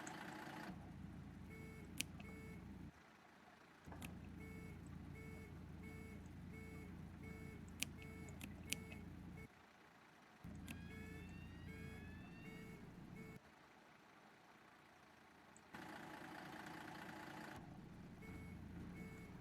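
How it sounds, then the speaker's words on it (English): Repeated electronic beeps from an alarm in the OMSI 2 bus simulator game sound at a steady pace over a constant Volvo B10BLE bus engine hum, pausing briefly now and then before resuming. "there's an alarm going off"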